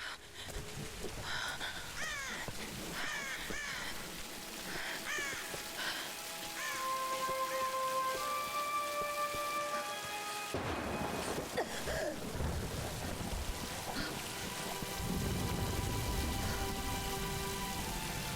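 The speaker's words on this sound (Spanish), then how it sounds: "Refúgiate de la tormenta." Stormy weather in the Tomb Raider video game: steady rain pattering across surfaces with a low thunder rumble building near the end, layered with game music and bird calls.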